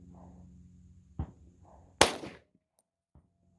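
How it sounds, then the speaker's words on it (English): A single sharp, loud gunshot from a .357 SIG Glock 31 pistol with a 4-inch barrel, fired into ballistic gel outdoors, with a brief decaying echo afterward; a fainter earlier crack and low background rumble precede it. "First shot."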